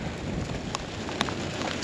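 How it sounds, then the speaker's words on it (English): Heavy rain pouring onto dry, dusty farm ground during a storm after a long dry spell, a loud steady hiss with scattered sharper drop hits. "You can see it raining really hard across there."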